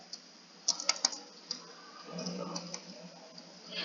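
Touch typing on a computer keyboard makes quick, light clicks in uneven bursts, with a few sharper taps early on and soft rustling keystrokes after, close and fairly quiet.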